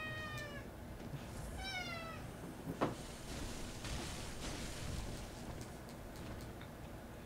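A cat meows twice near the start, with faint rustling and a soft knock afterward over quiet background hiss, in the setting of a Bloodborne game session.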